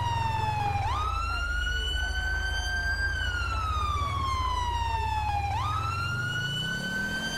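In the video game GTA 5, an emergency vehicle siren wails loudly and continuously, sweeping up and down in pitch over a steady low engine rumble.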